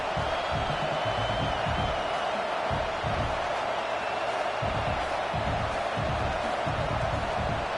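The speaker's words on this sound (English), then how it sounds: "This crowd trying to make life miserable for this offense." A college football stadium crowd roars throughout, a dense, continuous wall of cheering and shouting with rising swells, loud and close, while a broadcast commentator talks over it.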